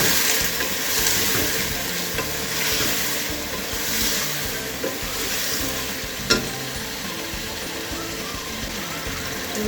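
Spinach and turnip being stirred in a hot cooking pan, a continuous close sizzle with irregular scraping strokes and one sharp clink partway through, no voices.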